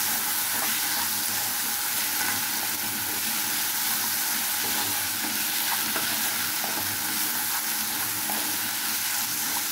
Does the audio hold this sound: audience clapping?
no